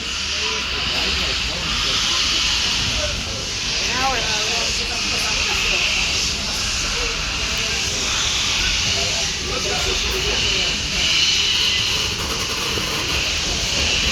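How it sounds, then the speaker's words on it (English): Steam hisses steadily from Reading and Northern #425, a 1928 Philadelphia-built 4-6-2 Pacific-type steam locomotive. The loud, continuous broadband rush goes on for the whole stretch, with faint voices mixed in. "is a 462 type Pacific steam locomotive built in Philadelphia in 1928 for the Gulf, Mogul, and Ohio Railroad"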